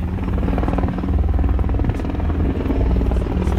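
Three helicopters flying overhead, a loud, close, continuous rotor thump that pulses rapidly and steadily throughout.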